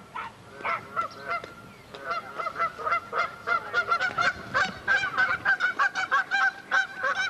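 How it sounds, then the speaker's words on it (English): Ducks by the water where people are fishing give a string of loud, repeated nasal honking calls, close by and coming in quick bursts, with little talk over them. "Ducks."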